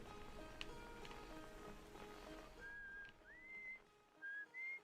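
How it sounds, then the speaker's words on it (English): Short melodic whistling notes in the video game Outer Wilds, a few bright tones in quick phrases, heard over a busy background of layered game music and ambience. "I forgot whose whistle that is."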